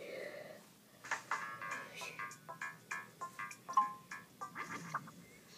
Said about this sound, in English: this is Mario's phone